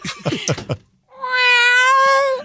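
A person imitates a cat meowing, giving one long, drawn-out, whiny meow after a brief burst of laughter or talk, loud and close.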